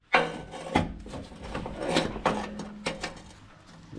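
A ratchet tightens the oil drain plug on a Mazda MX5 during a fluid change, producing close, sharp clicks and metallic rubbing in short, uneven bursts with quiet gaps between.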